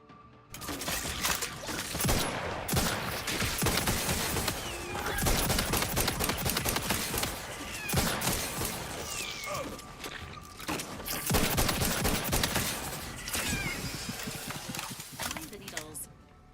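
Rapid bursts of DMR rifle fire in The Outer Worlds 2, loud, repeated shots running almost throughout, under game sounds and a voice talking over the action.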